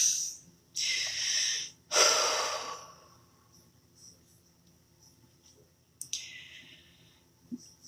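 Heavy, labored breaths, three loud rushes of air in quick succession, then quiet with a softer exhale near the end, close and with no talking.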